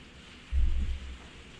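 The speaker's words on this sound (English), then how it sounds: "If you hear the rain behind me, it should pass." Rain falling outside a sunroom, a soft steady patter with a brief low rumble swelling partway through, like distant thunder, then settling back to a quiet wash.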